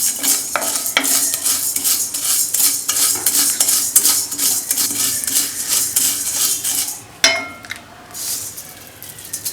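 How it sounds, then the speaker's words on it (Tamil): Coriander seeds dry-roasting in a pan while making rasam powder, with a steady scrape and rattle of stirring and light clinks against the metal, running continuously before easing off near the end. "இப்போ தனியாவை போட்டு வறுக்கணும்"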